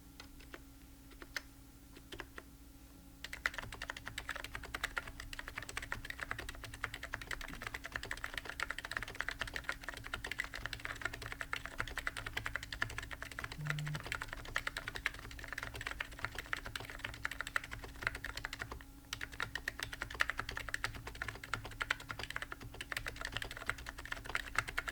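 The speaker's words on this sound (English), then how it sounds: "We're going to start with a typing test using the Dynacap EC kit" Steady typing on a Wing prototype mechanical keyboard fitted with a Dynacap electro-capacitive kit, rapid close clacking keystrokes continuing without a break through a long run, with no talk.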